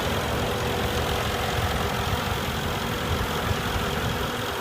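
A 2014 Mercedes-Benz ML63 AMG idles with a steady, dense engine rumble, loud and close, holding an even tone throughout with no talking.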